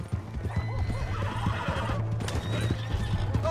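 A horse in Red Dead Redemption 2 whinnies over quick clopping hooves, the neigh rising and falling while hoofbeats thud in an uneven rhythm close by, with faint distant shouting in the background.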